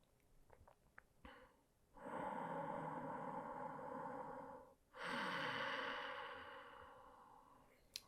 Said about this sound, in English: just take long, slow, deep breaths right here.